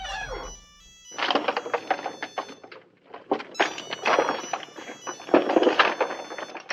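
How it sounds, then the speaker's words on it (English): A Juno hamburger-shaped novelty telephone rings with loud, repeated electronic ring bursts broken by short pauses, close and clear, with no talk over it. "the Juno hamburger phone. That's the one that's ringing now."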